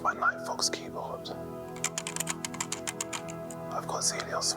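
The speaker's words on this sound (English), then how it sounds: "is my Nightfox keyboard." Close, crisp keystrokes come in a quick burst from a Nightfox mechanical keyboard with 78g Zelio switches, with soft speech before and after the typing.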